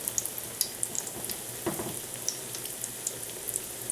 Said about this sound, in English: excuse that crisping sound